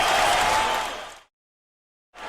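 An arena crowd at Arco Arena roars and applauds for Uriah Faber during a mixed martial arts fight: a dense, loud wash of cheering that fades out abruptly into silence, then briefly swells back in.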